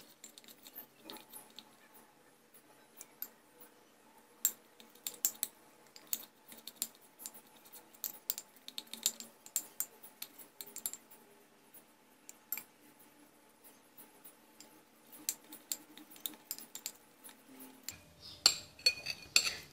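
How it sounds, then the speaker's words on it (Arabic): A spoon stirs homemade coconut and clove toothpaste in a container, making quiet, rapid clinks and scrapes for most of the time, ending with a soft thud and rustle. "الآن سأضيف ملعقة أخرى وأخلط"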